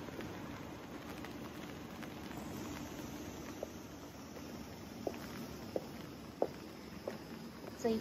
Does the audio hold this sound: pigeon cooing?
no